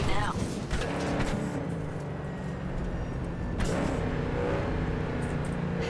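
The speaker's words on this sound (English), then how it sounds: "Could you turn down the car in the background? I'm having trouble hearing you." A car engine hums and revs behind a phone call in Cyberpunk 2077, a steady rumbling drone that swells in places. A voice talks over it throughout.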